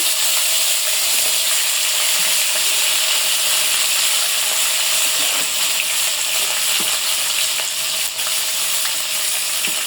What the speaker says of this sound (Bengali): এই তেলের ভিতরে ভেন্ডি কটাও ভেজে নেব